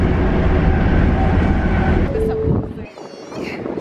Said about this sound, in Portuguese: Nada demais, ó, o trem como ele é.